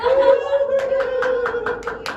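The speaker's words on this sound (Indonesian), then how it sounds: "Beri tepuk tangan untuk teman-teman" Students in a primary-school classroom clap in a short, even burst of about six claps, close and distinct, after a brief held vocal tone at the start.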